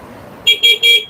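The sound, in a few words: motorcycle horn honking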